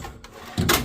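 A drawer on a new Harbor Freight tool box slides open, a short broadband rumble that swells near the end of a brief, fairly close recording with no talk.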